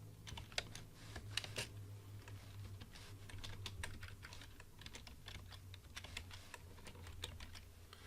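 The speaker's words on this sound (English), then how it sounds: "I can go ahead and type in SQL code" Keys clatter steadily on a computer keyboard as SQL commands are typed at a command prompt, a quiet run of uneven clicks with no talking.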